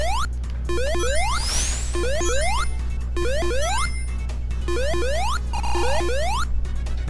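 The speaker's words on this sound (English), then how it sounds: "It's a jumping sound." Repeated rising chirpy jump effects from Sonic Mania's Chemical Plant zone, loud and close, firing in quick bursts over steady game music with a brief whooshing crash early on.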